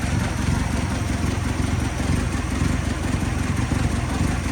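Subaru car engine idling with a loose, worn exhaust system, a steady low rumble that stays close and even throughout with no other sound.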